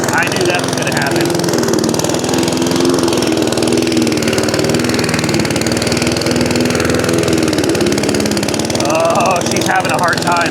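An inexpensive Amazon Smartpower lawn mower churns loudly through overgrown grass, its engine droning steadily close by and straining toward the end, while a person talks over it.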